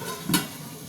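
Mutton bhuna with green chilli frying in a pan: a steady hiss of sizzling oil with a quick scrape or clink from stirring partway through, close and without speech.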